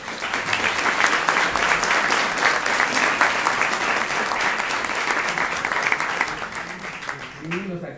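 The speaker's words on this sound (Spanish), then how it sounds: "Un aplauso también." Audience applause at a news-format conference, a sustained dense burst of clapping that holds steady for several seconds, then fades out near the end as a voice begins speaking.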